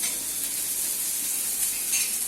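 Chopped onions frying in oil in a pan while being cooked down for eggplant bharit, a loud, close, continuous hiss and crackle with no pauses or talking.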